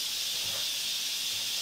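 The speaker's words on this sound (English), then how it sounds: "It's steam, Amit." Steam hissing outdoors, a steady broad high-pitched hiss that stays constant and fairly loud throughout, with no voices over it.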